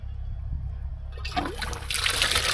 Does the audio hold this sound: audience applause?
no